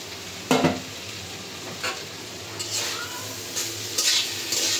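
Vegetable bhaji being stir-fried in a kadai in a village kitchen, a soft steady sizzle broken by several sharp scrapes and clinks of a spatula against the pan.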